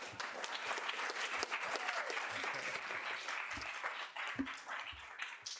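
An audience at a student senate meeting applauds in a dense, sustained wash of clapping, many hands together at a moderate distance.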